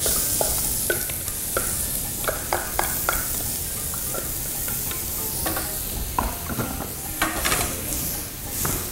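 Garlic sautéing in olive oil in a pan, a continuous bright sizzle with repeated scraping and stirring taps, close and steady throughout.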